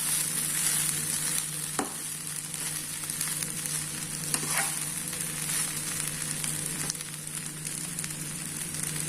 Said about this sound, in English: after adding the vegetables and soya chunks, we will cook it for 2 minutes. We will mix it properly